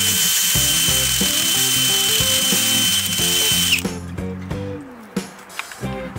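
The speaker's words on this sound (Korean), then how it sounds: "지금 제가 간단하게 한번 뚫어 보겠습니다." A power drill fitted with an auger bit bores into poor, compacted garden soil for planting bulbs, a loud steady motor whine that cuts out partway, followed by scattered clinks and rattles of the bit and soil.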